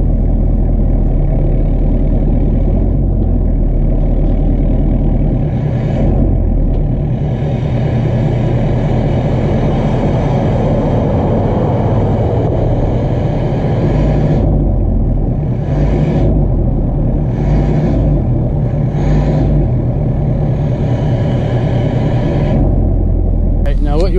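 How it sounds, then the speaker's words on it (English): Pickup truck with a hooked-up fifth wheel trailer, engine rumbling and revving steadily as it tugs against the hitch, loud and continuous, with someone talking over it. "Now what you want to do when you do your tug test is you don't want to give it full throttle."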